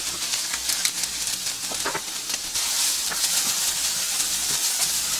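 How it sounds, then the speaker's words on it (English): Vegetables sautéing lightly in a pan, a continuous bright hissing sizzle that swells slightly partway through, with scattered small crackles and pops, no talking. "And I saute this pretty lightly because I don't want to like cook the heck out of it"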